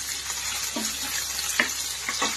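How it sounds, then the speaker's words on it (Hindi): Thinly cut raw potatoes frying in hot oil for a crispy chilli potato snack, a steady close sizzle and hiss with a few brief clinks and scrapes of a utensil over it. "इधर हमारे आलू भी अच्छे से फ्राई हो रहे हैं"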